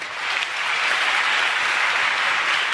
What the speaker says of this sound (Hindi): गुरुजी ताली बजाइए।